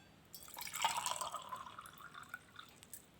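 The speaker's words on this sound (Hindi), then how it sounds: "अब मैं इस पानी को अगर ग्लास में डालती हूँ" Water poured from a bowl into a glass, a quiet splashing trickle that swells briefly and tapers into faint drips, close and soft with no talk.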